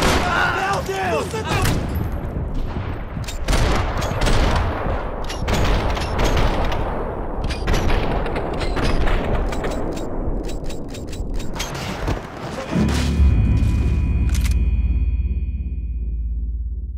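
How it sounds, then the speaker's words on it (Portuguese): Rapid gunfire rings out through a violent movie scene, with bursts of sharp cracks and clanging reports overlapping loud shouting and commotion, then a heavy low rumble takes over near the end. "Continue atirando!"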